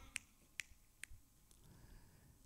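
Four crisp finger snaps ring out one after another in a quiet church worship setting, each sharp and clear, the last one noticeably fainter.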